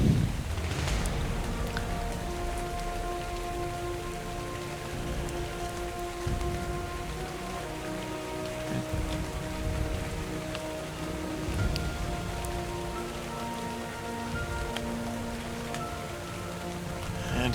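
Steady rain in Ark: Survival patters down continuously on surfaces, a dense hiss of drops with occasional heavier splashes, no voices.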